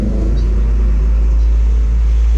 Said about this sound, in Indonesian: ada mobil lewat sini mah agak berisik